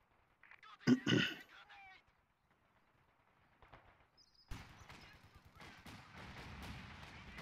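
In a World War II game battle around Caen, a sharp mortar blast booms up close, and after a lull a dense crackle of gunfire and distant explosions keeps going.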